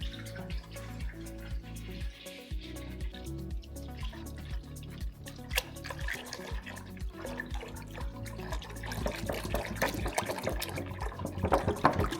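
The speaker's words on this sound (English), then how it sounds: "So now we add a gallon of milk." A gallon of whole milk pours into a Dutch oven, making a continuous liquid splashing and gurgling that grows fuller and louder toward the end, with no talking.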